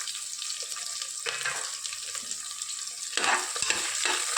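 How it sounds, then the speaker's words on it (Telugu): Chopped onions and green chillies fry in hot tempering oil for coconut milk rice, a steady close sizzle with stirring scrapes, swelling louder near the end; no talking. "వీటిని బాగా వేయించుకోవాలి తాలింపులో."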